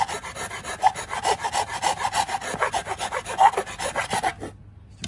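A metal file rasps back and forth in a steady rhythm, about a dozen close strokes, rounding out a notched hole in a Porsche Boxster 986 or 911 996 gear shifter lever, then stopping abruptly.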